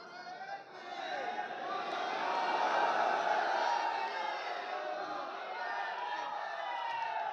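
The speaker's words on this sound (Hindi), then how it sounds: "ये अल्लाह अकबर की जो सदाएं बुलंद हुई हैं" Crowd at a maulana's speech about Ajmer Sharif chants the Allahu Akbar slogan in unison, many voices swelling together in a loud, sustained roar that stays steady throughout.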